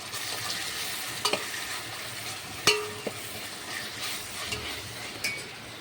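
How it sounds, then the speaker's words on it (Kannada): Spice masala and tomatoes frying together in a pan, a steady soft sizzle with occasional stirring scrapes and a few light clinks, close by with no voices. "ಇಲ್ಲಿ ನೋಡ್ರಿ ಇಷ್ಟು ಮಸಾಲೆ ಟಮಟಾಗಿ ಚಂದನತ್ತ ಫ್ರೈ ಮಾಡ್ಕೊಂಡಿನಿ"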